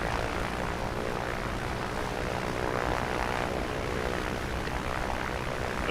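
An A2A Comanche propeller plane in Microsoft Flight Simulator 2024 drones steadily after landing, a constant close engine hum and propeller whir without pause.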